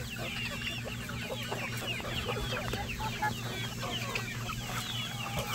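Chickens cluck steadily in a busy farm flock, many short overlapping clucks and chirps over a constant low hum, close and continuous with no speech.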